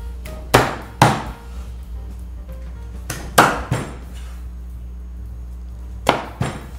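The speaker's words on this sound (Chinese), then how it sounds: "我们用剁刀把鸡腿剁小块一点" Braised chicken legs chopped with a cleaver on a board, sharp heavy whacks in pairs spaced a few seconds apart, close and loud with quiet between blows.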